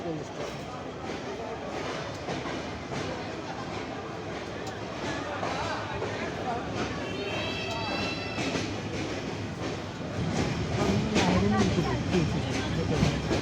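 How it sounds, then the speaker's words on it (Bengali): An express train rumbles and clatters along the rails as it pulls away from Ullapara railway station, with a brief wheel squeal and people talking nearby over the noise. "ট্রেন ছেড়ে যাচ্ছে উল্লাপাড়া রেল স্টেশন"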